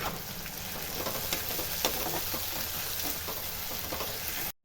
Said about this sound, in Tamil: கொஞ்சம் உப்பு போட்டுக்கலாமா தக்காளி வதங்கிறதுக்கு